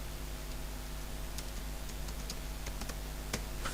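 Computer keyboard typing while writing VB.Net code: sparse, quiet clicks and taps over a steady low hum, a few keystrokes standing out near the end.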